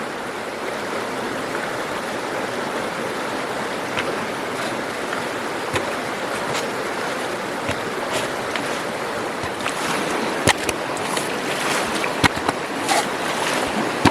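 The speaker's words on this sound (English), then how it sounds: "I'm going to fill it up with water so I can use the Vo-Gus" Water runs into a Vo-Gus gold concentrator loaded with sludge from old workings, a continuous rushing, splashing flow with scattered sharper splashes and knocks growing toward the end; no one speaks.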